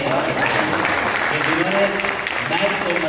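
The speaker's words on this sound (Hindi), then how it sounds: "एक बार ताली बजाइए।" A college event audience claps in a dense, continuous roar of hands, fairly loud and close, while a voice speaks over the applause.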